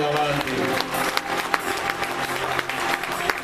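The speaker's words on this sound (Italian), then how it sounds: "Fate un applauso a questi bimbi che hanno un mondo davanti" A crowd applauds children after their carnival dance performance at a 2014 costume ball, steady clapping filling the room with a voice talking over it.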